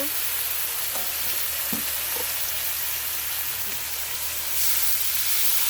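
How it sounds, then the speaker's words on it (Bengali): Chicken kosha sizzling in a pan with spices and a splash of water, a loud steady hiss and frying crackle throughout with a few faint stirring knocks, growing slightly louder near the end. "এখন আমরা বাকি মশলাগুলো দিয়ে দিব দিয়ে দিয়ে এখন একটু জল দিয়ে কষিয়ে নিব"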